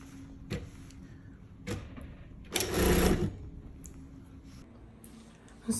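A sewing machine stitches a zipper pouch close to the fabric edge in short bursts, with one louder sustained run of stitching in the middle of otherwise quiet moments.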